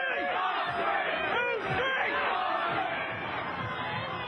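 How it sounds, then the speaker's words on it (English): Angry protest crowd at the G20 demonstrations in London, many voices shouting and chanting in rising and falling calls, a dense nearby mass of yelling. "Crowds shouting in anger and unified chanting."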